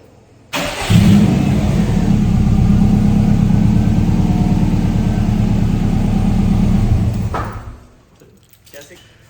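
A car engine starts with a quick crank, catches, and idles loudly and steadily for several seconds before cutting off abruptly, leaving quiet.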